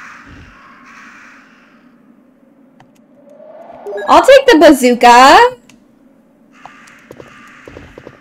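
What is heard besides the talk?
crows cawing in Resident Evil 1 video game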